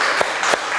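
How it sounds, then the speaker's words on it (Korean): A small gathering at a meal claps in applause, two brief bursts of hand claps close together, loud and near. "우리 이 대표님에게 감사의 박수 한번 드리겠습니다"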